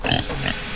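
Pig squeal from the horror video game The Butchery, a short, loud, strained squeal lasting under a second, over a busy game background.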